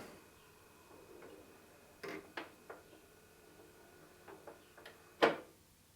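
The reject button mechanism of a Sony PS-LX49P turntable clicks and clunks through a short sequence of faint mechanical knocks, ending in one sharper close thud, with no talk over it.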